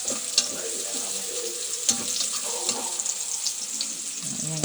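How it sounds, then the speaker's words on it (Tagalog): Garlic, onion and ginger sautéing in a hot pan for wild bitter-gourd-leaf adobo: a steady close hiss of frying with a few light utensil knocks and stirring scrapes, no speech. "naggisa siya ng bawang,"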